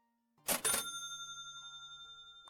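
A cash register in the Supermarket Together grocery store simulator game rings once with a pair of sharp mechanical clacks and a bright chime that rings on steadily, followed by a faint beep.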